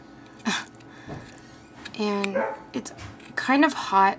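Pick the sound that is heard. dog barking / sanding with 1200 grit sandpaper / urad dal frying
dog barking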